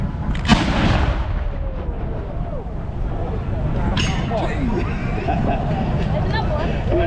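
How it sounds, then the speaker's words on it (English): Big military guns firing blanks at an outdoor military show: a sharp, loud boom early on, then a second weaker report, over steady crowd noise and nearby talking. "That's some big guns firing."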